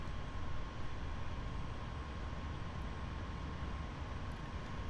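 Jet engine in DCS World over Normandy: a constant broadband roar with a steady whine running through it, unchanging throughout and without speech.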